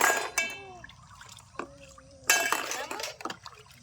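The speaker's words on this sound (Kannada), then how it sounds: "ತಿಕ್ಕಿ ತಿಕ್ಕಿ ತೊಳಿಲಿಕ್ತಾಳ್ರಿ ಭಾಂಡೆ ಎಲ್ಲ" Dishes are washed by hand with water splashing and glass and metal utensils clinking against each other, a few sharp knocks standing out over quiet gaps.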